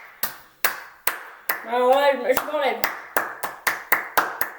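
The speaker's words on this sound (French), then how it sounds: "Applaudissez-vous chez vous avec vos mains." Sharp, evenly spaced hand claps ring out at close range in a steady rhythm, pausing briefly while a voice speaks, then resuming.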